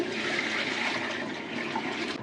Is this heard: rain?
no